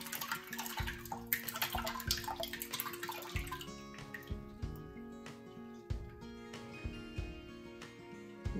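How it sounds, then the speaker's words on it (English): Wood-pulp-free paper slurry poured from a container over a papermaking screen held just under water in a vat, giving a continuous splashing, trickling pour with small drips, close and fairly quiet, with no talking. "I'm just gonna really pour it on top."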